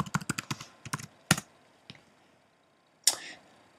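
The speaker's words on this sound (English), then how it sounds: "you want to type in Easy YouTube Downloader." Close, crisp keystrokes on a computer keyboard come in a quick run of clicks, then a few spaced taps, a pause, and one final firmer key press, with no speech.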